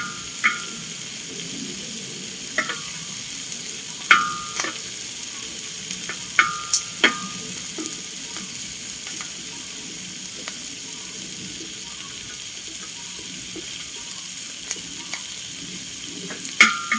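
Chillies and garlic fry in a pan with a soft continuous sizzle, punctuated by scattered clinks and scrapes of a spatula stirring, heard up close with no talking.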